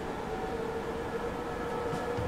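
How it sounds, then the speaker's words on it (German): An S-Bahn commuter train departs in the video game Transport Fever 2, producing a steady rail rumble with a sustained whining tone, continuous and moderately loud. "Und die S-Bahn, die wir gerade eben begleitet haben, hat auch wieder Ausfahrt"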